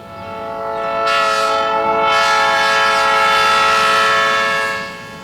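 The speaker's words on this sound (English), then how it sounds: "A freight train rumbles through, but no longer makes the stop." Freight train passing through a small downtown, its horn blaring in a long, loud sustained blast that swells, holds for several seconds and fades, over the low rumble of the cars.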